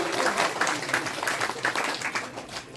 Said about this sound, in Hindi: ताली तो बजा दो